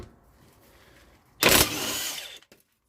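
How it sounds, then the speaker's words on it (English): A power tool, likely an impact gun with a 16mm socket, spins off nuts on the lower control arm of a VW Sharan, one loud burst lasting about a second after quiet workshop ambience. "I'm gonna use power tool."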